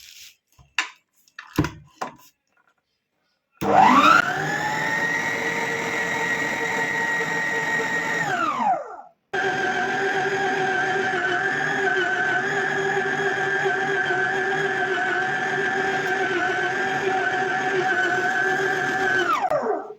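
A stand mixer kneads almond chebakia dough with a loud, steady motor whine, running for several seconds, stopping briefly, then starting again and running on, after a few short clatters at the start.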